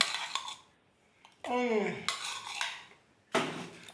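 Egg, salt and chopped onion are mixed in a dish with a utensil, making bursts of clinking and scraping against the bowl, separated by short quiet gaps, with no voices.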